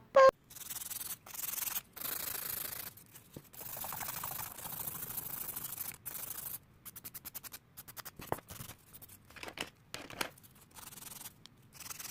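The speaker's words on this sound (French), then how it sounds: "On va limer, puis on va mettre la finition" Repeated rasping strokes of a nail file on a fingernail coated with resin, coming in short, close bursts with pauses between them and no talk.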